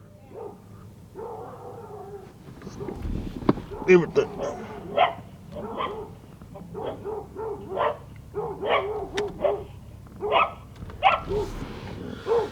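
Dogs bark in a neighborhood early in the morning, a string of sharp barks and yips at mid distance in irregular bursts, with someone talking over them.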